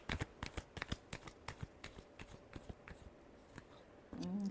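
Tarot cards are shuffled in a quick run of crisp riffling flicks, close and quiet, with a short louder rustle at the end.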